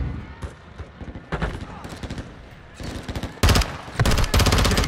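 Automatic gunfire in a first-person shooter campaign, rapid machine-gun bursts and overlapping shots that grow louder and denser toward the end, with shouted voices mixed in.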